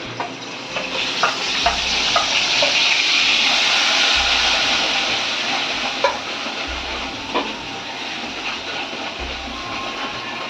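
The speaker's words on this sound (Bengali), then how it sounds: "তারপরে যে তেলটা অবশিষ্ট রয়েছে সেটার মধ্যেই আমি পেঁয়াজ আর আদা রসুন লঙ্কার পেস্টটা দিয়ে দেব" Onion with ginger, garlic and chilli paste frying in leftover oil from fried potatoes for biryani, a steady close sizzle with occasional stirring scrapes and soft low thumps.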